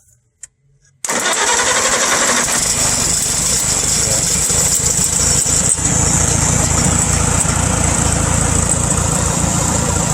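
A small Farmall tractor engine starts after a second of near silence and runs steadily at a loud, even idle for the rest of the clip.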